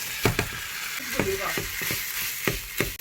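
Fried rice with ham and kimchi sizzling in a hot pan in pork fat while a utensil scrapes and stirs in irregular strokes, close by and moderately loud.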